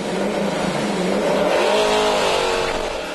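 A loud drag race car engine roars steadily and revs up, launching at 2500 RPM on DOT drag tires, with a rising whine as the car pulls away; one continuous, powerful burst of engine noise.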